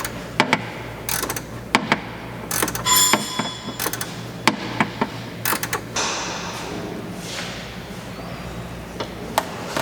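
Ratchet clicking in quick bursts as a bolt on a 2021 Ford Bronco hood strut bracket is loosened and tightened, close and crisp, with pauses and light metallic handling between runs and no speech.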